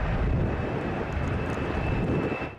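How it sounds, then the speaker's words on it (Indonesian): A Boeing aircraft roars during an extreme takeoff test, a dense, steady engine rush with a thin constant whine on top, loud throughout and easing slightly at the end. "Tes paling berbahaya dari semua ini adalah uji coba lepas landas ekstrim."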